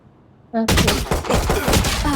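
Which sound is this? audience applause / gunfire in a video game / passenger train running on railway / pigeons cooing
gunfire in a video game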